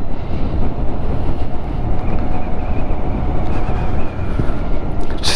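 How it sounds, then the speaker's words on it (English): Steady, loud wind roar buffeting a helmet at speed on a Harley-Davidson LiveWire electric motorcycle, continuous broadband rush with no engine note and no talking. "Silence, just got the wind noise in my helmet."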